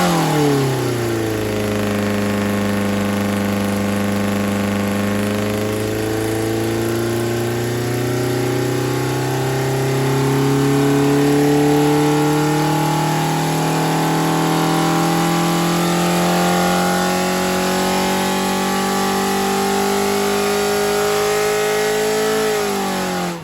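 A Ford Pinto engine fitted with twin 44 IDF carburettors runs at full power on a test, revving up and holding a loud, rising drone before dropping back, close and continuous with no talk.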